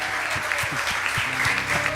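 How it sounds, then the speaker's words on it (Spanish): Church congregation applauds together, steady dense clapping at moderate loudness, with low sustained tones underneath that could be music. "el aplauso al Rey de Reyes"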